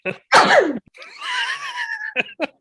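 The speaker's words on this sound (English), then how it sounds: "Excuse me, I have a sneeze." A single loud allergy sneeze bursts out near the mic, followed by a drawn-out wheezy, whiny exhale and a few short breathy sounds.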